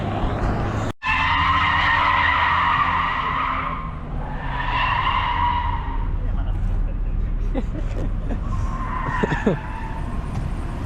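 A BMW E39 drifting on the Słomczyn track, its tires skidding and squealing in long wavering screeches over a steady engine roar, with speech mixed in over it.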